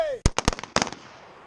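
Pistol shots from 9mm and .380 handguns at an outdoor shooting drill, a quick burst of about eight loud, sharp cracks in two clusters with short echoing tails, ending in quiet.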